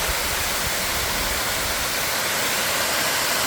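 A waterfall north of Nakusp, British Columbia pours with a constant, loud, broadband roar of rushing water, close by and unbroken, with no voices.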